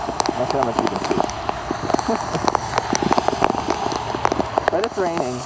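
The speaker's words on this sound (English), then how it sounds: "But it's raining." Steady rain patters and splashes on a partly flooded parking lot in St. Augustine, Florida, close and continuous, with a person talking over it.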